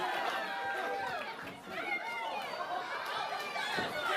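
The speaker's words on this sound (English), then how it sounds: "Our crowd getting into it." A rowdy crowd at a live EwF wrestling event, dense chatter and shouting rising into a sustained roar throughout, with no clear pauses.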